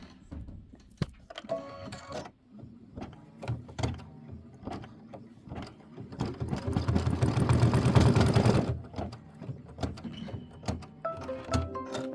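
An embroidery sewing machine stitching a Kimberbell quilt block, with clicks and short motor whirs, then a longer loud sustained run of rapid stitching before stopping and resuming briefly.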